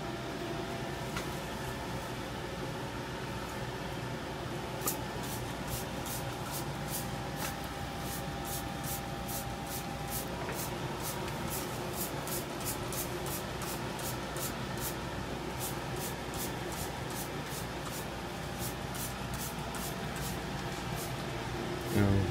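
Steady hissing pesticide spray with a pump hum underneath, aimed under a plant canopy in a tight space, broken by rapid repeated clicking pulses, close by and continuous throughout.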